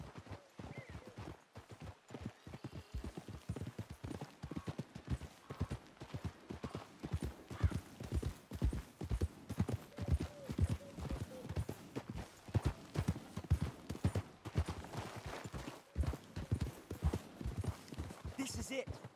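Horses' hooves clip-clop steadily in Red Dead Redemption 2, a dense, continuous rhythm of close hoofbeats with occasional whinnies, heard under spoken dialogue from the game's characters.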